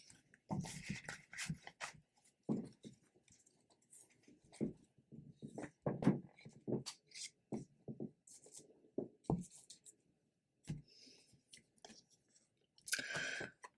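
Soft, irregular papery shuffling and riffling of tarot cards, close and quiet, with brief pauses between bursts and a few light taps.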